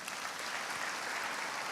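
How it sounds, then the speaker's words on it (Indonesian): A church congregation claps for Jesus during a sermon, a dense, steady wash of applause from many hands that holds at an even, fairly loud level throughout with no break. "Tepuk tangan untuk Yesus."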